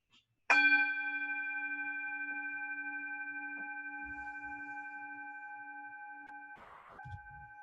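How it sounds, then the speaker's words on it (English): A meditation bell is struck once, giving a sharp onset and then a long, clear, steady ringing tone that fades slowly over several seconds, followed by a brief soft shuffle near the end. "I'm going to go ahead and ring the bell"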